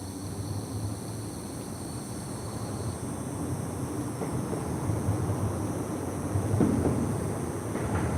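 A CSX or Norfolk Southern freight train passes trackside in Dalton, Georgia, hauled by an SD33 ECO locomotive: a steady, broad rumble and rail roar that swells slightly toward the end, with no talk.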